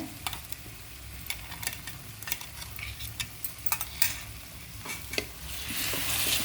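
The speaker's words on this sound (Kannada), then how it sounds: "ಈ ಪೇಸ್ಟನ್ನ ಸ್ವಲ್ಪ ಫ್ರೈ ಮಾಡ್ಕೋಬೇಕಾಗತ್ತೆ ಒಂದು ಎರಡು ನಿಮಿಷ ಫ್ರೈ ಮಾಡಬೇಕು" Onion and green chili paste frying in a pan while a spoon stirs it, a constant sizzle under repeated sharp scraping and clinks of the utensil against the pan, growing denser at the end.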